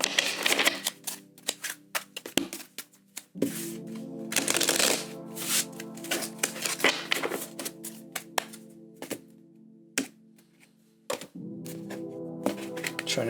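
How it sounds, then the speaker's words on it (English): Tarot cards being shuffled close up in quick riffling bursts, with sharp taps and rustles between them over a steady low hum. "we're going to do 2 shuffles"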